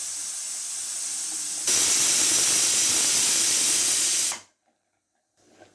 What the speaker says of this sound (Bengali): বন্ধুরা দেখতে পাচ্ছেন সিটিটা পড়ে গিয়েছে